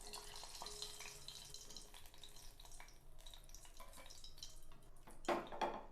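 Vanjaram dry fish deep frying in oil over a medium flame, a soft steady sizzle full of small crackles and bubbling pops, with a few sharper spits near the end.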